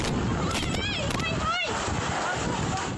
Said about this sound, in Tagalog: Halos matumba ang mga puno habang rinig ang malabuhawing lakas ng hangin dala ng Bagyong Tino.